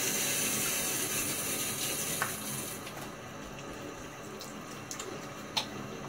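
Tap water runs steadily while a Blackland Dart safety razor is rinsed under it, a broad hiss that grows quieter partway through, with a few small clinks and taps.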